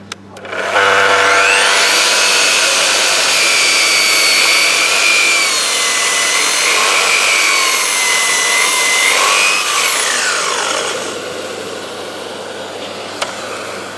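A Festool HK 85 carpentry circular saw with a 2,300 watt motor cuts through thick green oak timber, a loud close whine that spins up, holds a steady strained pitch through the cut, then winds down as the blade coasts to a stop.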